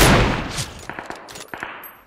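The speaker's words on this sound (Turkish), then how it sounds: "Arkada sıkıyor." Gunfire from behind in PUBG Mobile: a loud burst at the start fading away, then several sharp, quieter shots in quick succession, no talk.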